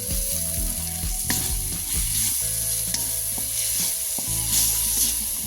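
Ghugni spice mix with chopped coconut and a little sugar frying in a pan: a steady close sizzle with stirring scrapes over a constant low mechanical hum.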